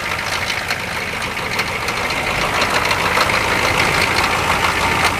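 A K5 Blazer engine runs steadily right after a cold start on frozen fuel, a continuous broadband rumble with a rough knocking edge that grows slightly louder over a few seconds, with no talking.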